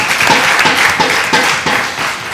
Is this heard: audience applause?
yes